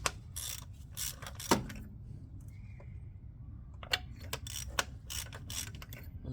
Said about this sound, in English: we can go to this side and take out the spark plugs